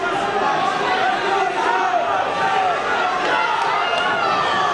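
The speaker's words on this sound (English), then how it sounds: "Crowd's getting louder." Dense, steady crowd chatter fills a gym during the final minute of a 152-pound high school wrestling championship bout, a continuous roar of voices with scattered thumps and shouts that stays loud throughout.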